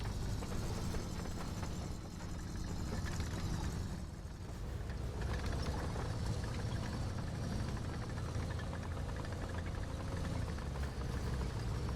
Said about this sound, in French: je crois que j'entends un moteur à gauche